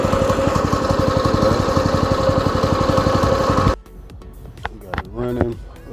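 A repaired go-kart engine runs loud and close with a steady, chugging idle for several seconds, then cuts off abruptly, leaving quieter clanks and voices.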